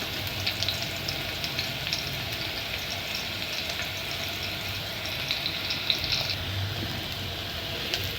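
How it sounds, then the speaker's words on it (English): Potatoes fry with onions in a pan, a continuous moderate sizzle with small crackles and a brief brighter hiss midway, no voices. "So I've added in my potatoes."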